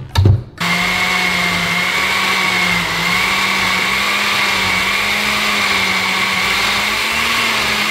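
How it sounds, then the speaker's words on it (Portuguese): Kitchen blender whirring loudly while pureeing baby food, a steady high motor drone with a slight pitch shift, starting after a brief clatter and running continuously. "Eu acho que eu vou precisar de um liquidificador"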